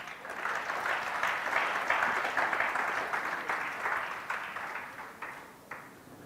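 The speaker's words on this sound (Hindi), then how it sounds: "सभा के लिए जोरदार ताली" Enthusiastic audience applause at a Parichay Shivir session in Nathdwara, a dense, sustained burst of many hands clapping that stays strong for several seconds and then slowly thins and fades toward the end, with no talking over it.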